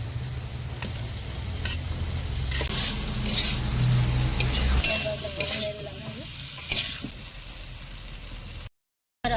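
Fried pointed gourd and potatoes added to a pan for prawn curry, giving a steady loud sizzle with stirring and utensil scrapes against the pan, easing somewhat toward the end before a brief silence.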